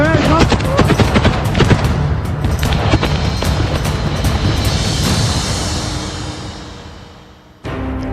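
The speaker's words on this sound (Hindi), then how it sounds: "रूस के वैगनर लड़ाकों ने सीक्रेट लोकेशंस पर छुपे यूक्रेन के सैनिकों को मशीन गन से फायरिंग कर छलनी कर दिया है" Loud, rapid bursts of machine gun fire rattle continuously in war footage from Bakhmut, fading slightly before a sharp resumption near the end.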